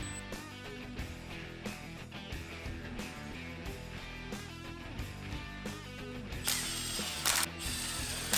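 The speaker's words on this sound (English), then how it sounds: "Now I'm bolting the AC compressor back up to the timing cover," A hand ratchet clicks rapidly while bolting an AC compressor to the timing cover of a Scat Pack engine, steady close ratcheting strokes with a louder burst near the end.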